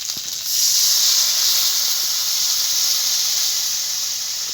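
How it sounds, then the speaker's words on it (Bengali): A loud, sustained hiss of steam as water is poured into a pan of fried okra, rising sharply after a brief quieter start and holding steady until the end, close and without talk. "এবার আমি জল দিয়ে দেবো।"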